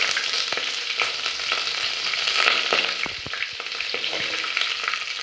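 Curry leaves, fenugreek powder and dried red chillies frying in hot oil after popped mustard seeds, in a tempering for Sundakkai Vathal Kuzhambu: a steady close sizzle with scattered crackles and stirring scrapes.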